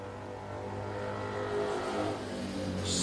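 A road racing motorcycle at an AHRMA vintage national roadrace passes on the track, engine droning and rising as it nears, heard from a steady distance.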